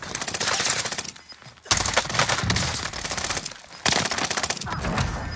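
A light machine gun fires in an online shooter game, in long, loud, rapid bursts up close, with a couple of brief breaks before the fire picks up again.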